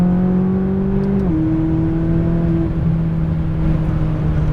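McLaren 570 sports car engine heard from inside while accelerating toward 110 mph, a loud steady drone with a shift in pitch partway through, no talk.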